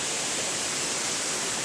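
Mahal Waterfalls in Gujarat, a small fall of about 15 metres, gives a steady, even rush of falling water with no break or other sound.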